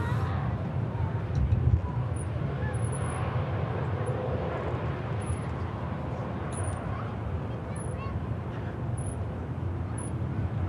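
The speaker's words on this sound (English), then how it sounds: "As the EasyJet touching down" An EasyJet airliner touches down at Manchester Airport, a continuous low rumbling roar of engines and rolling noise at moderate distance, with a brief louder swell early on and no voices.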